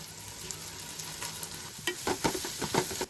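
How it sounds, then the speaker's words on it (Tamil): Onions sizzle in hot oil with green chillies and chilli powder for a Hyderabad chicken biryani, with steady frying crackle and several louder scraping stirs toward the end. "ஆனியன் வந்து நல்லா ப்ரௌனிஷாக வர அளவுக்கு வந்து அதை வதக்கிக்கலாம்"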